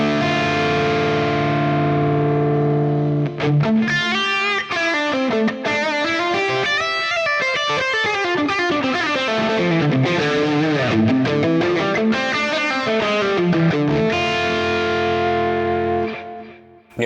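An electric guitar runs through the Axe Fx WRECKERS Trainwreck preset, heavily distorted with effects. Sustained chords ring out before a busy run of picked single-note lines, then a chord rings out and fades.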